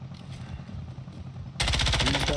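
In a video game featuring M4 and MP5 guns, a quiet ambient stretch breaks into a sudden loud burst of rapid automatic gunfire.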